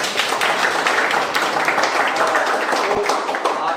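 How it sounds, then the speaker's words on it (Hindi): Sustained audience clapping at a birthday celebration, dense and steady throughout, a crowd applauding together at moderate loudness with a faint voice or two mixed in. "जोरदार तालियां होनी चाहिए।"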